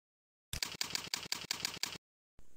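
Keyboard keys tapped to enter a password at a login screen, about eight quick, evenly spaced clicks in a close, quiet room, then a pause before one more faint sound.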